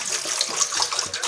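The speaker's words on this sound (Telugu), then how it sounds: "ఇదిగోనండి ఇడ్లీ పాత్రలు నీళ్ళు పోస్తున్నాను చూడండి" Water pours steadily into an idli steamer pot, a close, continuous gushing splash with no voices.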